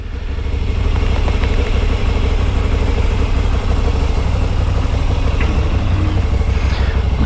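A Moto Guzzi V7 Special motorcycle engine fires up and runs close by, its loud, steady, chattering mid-pitched throb holding evenly throughout with no one talking.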